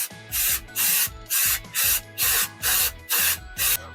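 Rust-Oleum matte finish spray paint goes on in about eight short, evenly spaced hissing bursts, close and loud, in a steady back-and-forth rhythm.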